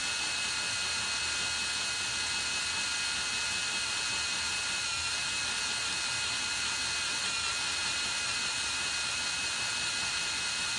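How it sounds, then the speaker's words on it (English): A power drill whines continuously at a steady high pitch, drilling slowly into the metal cylinder head of a Corvette 350 small-block engine without pause for the whole stretch. "So I'm just going to keep drilling. I'm drilling slowly."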